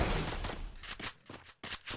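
A rattling burst of MP90 submachine gun fire in the video game Free Fire, followed by several short, quick bursts with brief gaps between them, moderately loud with a muffled, slightly distant tone.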